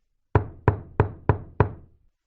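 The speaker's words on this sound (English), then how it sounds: "He knocked on the door." Five firm, evenly spaced knocks on a wooden door sound close and loud, each with a short dull ring, and no voices are heard.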